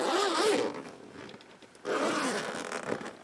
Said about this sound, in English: So let me zip this bad boy.